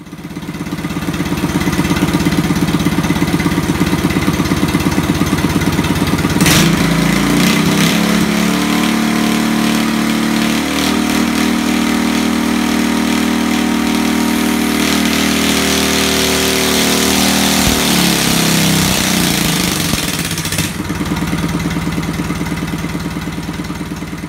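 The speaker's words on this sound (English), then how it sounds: "Now let's get back to the dyno video." A Predator 212 cc stage 1 go-kart engine roars loudly on a dyno, holding a steady high-revving drone, climbing sharply in pitch midway, sustaining hard under load, then easing back toward the end.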